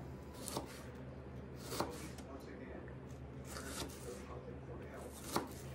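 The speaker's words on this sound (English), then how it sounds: "So cut it up thin, just like that" A knife slicing red onion thin on a board, several soft scattered cuts with brief sharper chops, faint and close, with low speech in the background.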